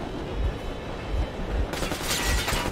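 Warning gunfire from the video game Metro Exodus: a series of low, repeated thuds and bursts fired at a steady rhythm, fairly loud and close, with a harsher burst of noise near the end.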